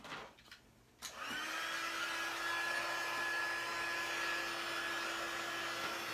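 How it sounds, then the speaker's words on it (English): Heat embossing tool blowing hot air over embossing powder on a greeting card, a steady loud whine with a tonal hum that kicks on after a second and runs continuously, no talk. "I'm gonna do this with my heat tool now, and it's gonna be a little loud"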